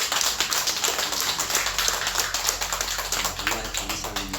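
A church congregation gives a long round of thanks applause, dense and steady clapping filling the sanctuary without a break and with no voices over it.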